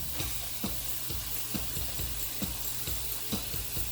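Meatballs frying in a pan for spaghetti and meatballs: a steady close sizzle with regular light clicks of forks turning them, no voices.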